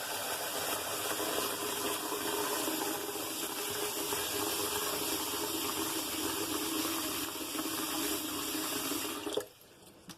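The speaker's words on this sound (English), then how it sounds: "Just regular cold tap water." Cold tap water runs into a kitchen sink in a steady, close, loud hiss for about nine seconds, then abruptly cuts off, leaving quiet.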